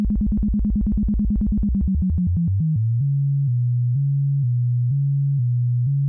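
A synthesizer waveform is modulated to jump between two pitches, first a rapid buzzing warble that slows into distinct alternating low tones switching back and forth steadily, loud and alone.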